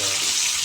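Bitter gourd fries in oil, a short burst of dense, steady sizzling with a slight stir toward the end.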